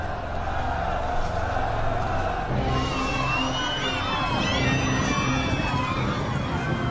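A crowd cheers and shouts loudly as a barbarian general is killed in ancient Ravenna, the roar continuous throughout, with higher excited cries and whistle-like calls rising in the second half.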